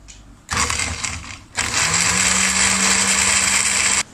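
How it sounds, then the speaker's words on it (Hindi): A kitchen blender grinds fennel, black pepper, green cardamom and almonds with water: a loud motor whir starts, pauses for an instant, then runs steadily at full speed for several seconds before cutting off abruptly. "अब हम इन सब चीज़ों को अच्छे से ग्राइंड कर लेंगे।"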